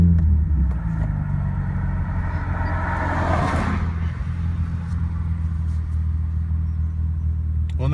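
An Infiniti G35 coupe engine starts and settles into a steady, loud, close idle rumble, with a brief rise in revs early on.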